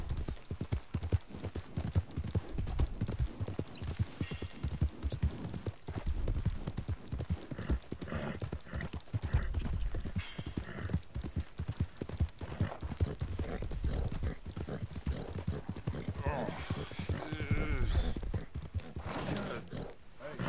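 Horse hooves clip-clop continuously in Red Dead Redemption II, a quick steady trotting rhythm close up over dirt, with a neigh at one point and occasional talk from the players.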